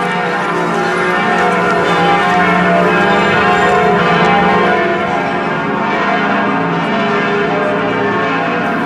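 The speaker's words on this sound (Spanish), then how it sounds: "Las campanas de las 6 de la tarde." Notre Dame Cathedral's bells in Paris ring at 6 pm, a loud, dense, continuous peal of overlapping tolls that fills the whole stretch without pause.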